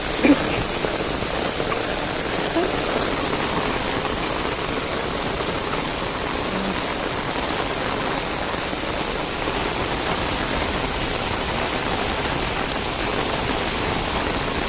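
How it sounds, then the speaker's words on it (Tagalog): Heavy rain pours steadily and loudly along a seaside promenade, a dense continuous hiss of drops hitting surfaces all around, with no voices. "Tuloy ang lakad, guys, kahit na ang lakas ng ulan."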